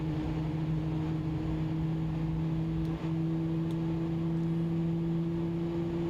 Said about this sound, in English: The sound of those engines is always nice to hear.